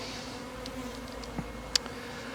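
Bees buzz around hives during a beekeeping feeding lesson, a faint steady drone with a sharper tick or close pass standing out briefly.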